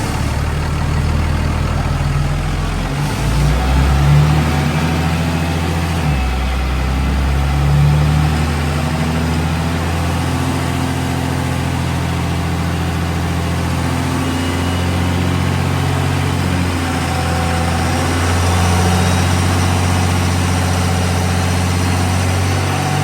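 Cummins diesel swapped into an OBS Chevy truck running on a dyno, a loud steady low rumble with lumpy throttle swells, alone with no voices.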